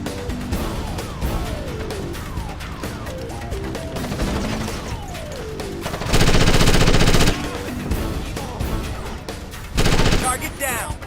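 Sustained machine-gun bursts in Ghost Recon Advanced Warfighter, rapid and loud, with two especially dense bursts over battlefield music and clatter while squad radio voices talk.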